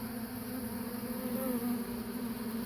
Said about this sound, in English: they roll around in the pollen and buzz around and stir it up and get it all over themselves